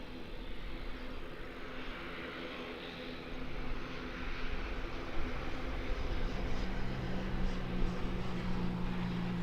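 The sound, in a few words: aircraft coming in to land at Auckland Airport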